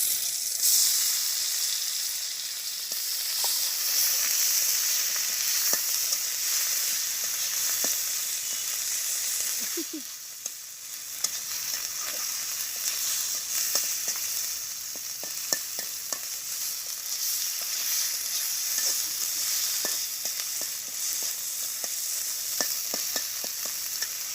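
Whole cumin seeds and a ground paste of onion, garlic, black pepper and dried chili fry in hot oil in a village kitchen pan, giving a constant loud sizzle with scattered pops and the scrape of stirring.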